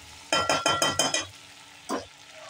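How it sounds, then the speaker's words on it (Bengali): Tandoori chicken stirred in a pan with a spoon: six quick scraping strokes in a row, then a pause and one more scrape, close up and fairly clear, with no talking. "আর আমি ঢাকাটা খুলে দিচ্ছি, আর একবার নেড়ে দিচ্ছি"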